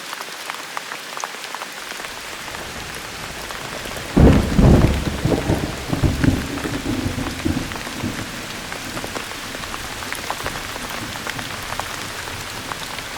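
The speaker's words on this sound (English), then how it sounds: "It rained for over an hour" Heavy monsoon rain pours steadily on a Western Ghats rainforest in Goa, a dense continuous hiss of drops with a loud rumble of thunder rolling through midway before the downpour carries on alone.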